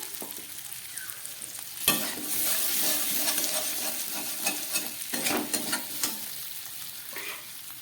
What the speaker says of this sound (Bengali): সব কিছু দিয়ে আবার একটু কষিয়ে নিচ্ছি